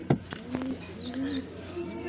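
A dabwala golden pigeon coos in soft, low rolling phrases a few times over a short stretch, close by, with faint background murmur.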